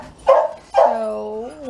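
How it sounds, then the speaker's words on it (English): Puppies bark twice in quick succession up close, with the second bark drawn out into a whining yip. "I love you puppies"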